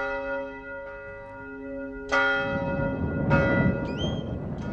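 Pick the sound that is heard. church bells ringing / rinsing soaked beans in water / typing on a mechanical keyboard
church bells ringing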